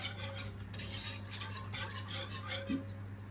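Spoon stirring thick corn porridge in a pot, a steady scraping and swishing close by over a constant low hum, with a faint metallic clink near the end.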